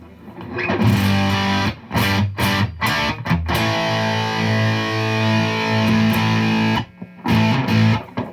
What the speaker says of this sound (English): Here's a nice setting for distortion I've used on a Strat before.